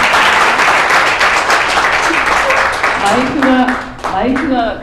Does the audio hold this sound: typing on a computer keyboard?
no